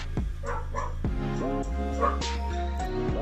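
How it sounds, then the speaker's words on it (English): A house dog gives a quick series of sharp barks and yips, close and fairly loud, spaced unevenly over a few seconds with no talking. "Sorry, that's my dog."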